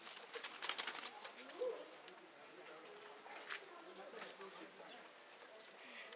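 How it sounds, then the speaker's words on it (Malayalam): Small captive birds at a Ras Al Khaimah nature attraction, soft pigeon- or dove-like cooing and faint chirps heard at a distance, with faint background sounds. "ചെറിയ പക്ഷികളൊക്കെ ഇവിടെ വളർത്തുന്നുണ്ട്"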